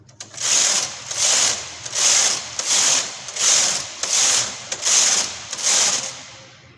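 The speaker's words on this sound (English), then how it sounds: "So you just continue knitting, and the needles will automatically be selected by the punch." A punch card knitting machine being worked, its carriage pushed back and forth in eight even rasping, whirring passes with brief clicks between them, close and steady with no talk.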